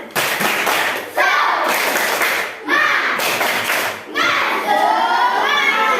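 A classroom of children performs a rhythmic clapping routine, bursts of patterned hand claps and desk thumps alternating with children chanting together in short phrases, close and loud.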